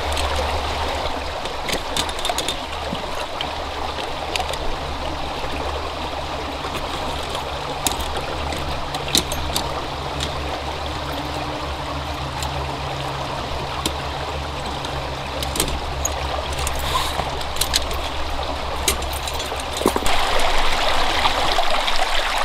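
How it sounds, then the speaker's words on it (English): A small stream flows under a log along a trapline, a constant close trickling and gurgling wash with no voices. "just water flowing under a log"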